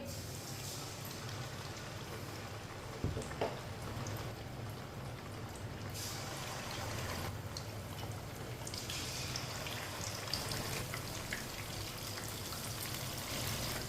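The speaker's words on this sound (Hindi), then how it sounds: "ऑयल हमारा अच्छी तरह गर्म हो चुका है। अब एक एक पीस मछली का डाल लेंगे।" Pieces of fish fry in hot oil with a steady, loud, hissing sizzle that fills the whole stretch, rising slightly as more pieces go in, with faint clinks from handling.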